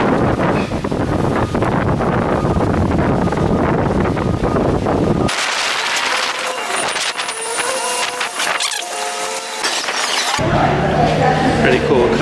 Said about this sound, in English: but it is super windy out here.